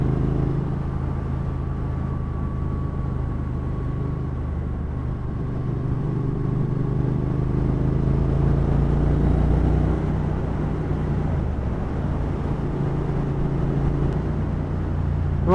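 A Triumph Thruxton R motorcycle engine runs steadily, a low, throbbing rumble heard close and loud throughout, with a slight dip in tone near the end.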